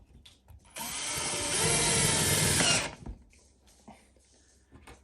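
A power drill drives a screw into an IKEA DALFRED bar stool during assembly, one continuous whirring run of about two seconds, close and loud, with faint handling clicks before and after.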